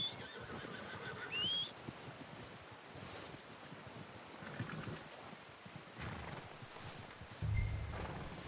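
A horse in the video game Red Dead Redemption 2 gives a brief whinny early on, over steady wind, faint hoof clops and outdoor ambience, with a low thump near the end and no talking.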